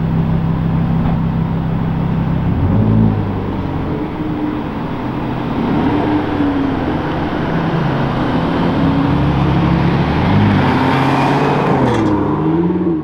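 Lamborghini SUV with an odd mechanical noise, a loud rumbling engine drone with shifting tonal whines and grinding undertones that rise and fall as it revs, close and continuous.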